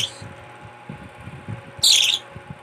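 A pet bird gives a brief burst of bright chirps while being fed a Cerelac booster mix, with faint low rustling and handling noises before and after.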